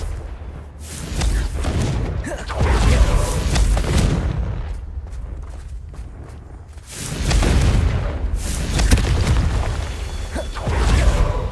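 Repeated Confringo explosive spell blasts in the video game Hogwarts Legacy, loud booming bursts rolling into one another with short dips between, close and heavy, with no clear talking over them.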